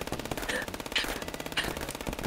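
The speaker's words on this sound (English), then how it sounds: "Queen? What the hell is that, a Tommy gun?" Rapid automatic Tommy gun fire in the chess-themed shooter game FPS Chess, loud continuous bursts running through the whole stretch with a few sharper accents, close and dominant.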